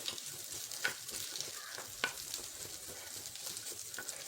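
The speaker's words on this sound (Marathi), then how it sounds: "खजूर परतून घ्यायचे एक चमचा तूप घातलं आहे" Chopped dates sauté in ghee in a pan, a soft continuous sizzle with occasional sharp clicks and scrapes of the stirring spoon, moderately quiet and close.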